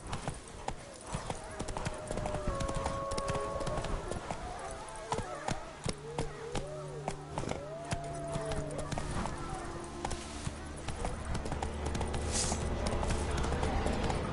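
Roach, the horse in The Witcher 3: Blood and Wine, gallops with rapid, rhythmic clip-clopping hoofbeats up close, over game music and ambient sound, with a voice speaking now and then.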